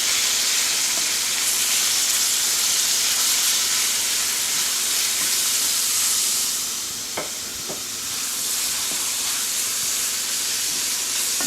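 Shrimp coated in adobo sizzles in a hot pan for lo mein, a steady, close, dense hiss that runs unbroken throughout, with a few sharper crackles near the middle and no voices.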